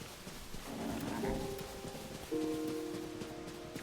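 Horse hooves clip-clop at a steady trot in the game The Legend of Zelda: Tears of the Kingdom under sustained synthetic tones, with occasional faint voices.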